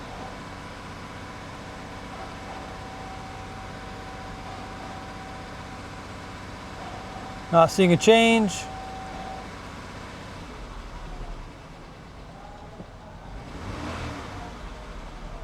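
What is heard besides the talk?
Jeep engine revving to about 2,000 RPM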